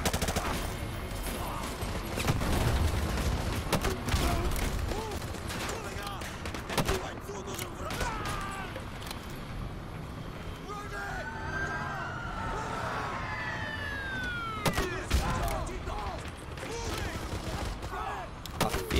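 Dense bursts of gunfire and booming explosions from the shooter game Modern Warfare 2 Remastered fill the scene continuously, loud and chaotic, with someone talking over the action.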